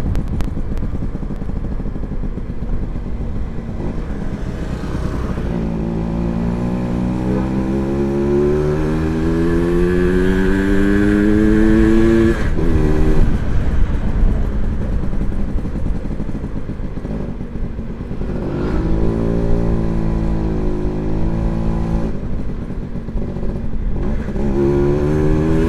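An old Yamaha V80 motorcycle rides along with a steady two-stroke engine drone, rising and falling in pitch as it accelerates and shifts, loud and close throughout without any talk.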